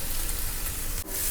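Onion, cumin and curry leaves fry in ghee in a pan, giving a steady close sizzle with a brief dip near the end, no talk over it.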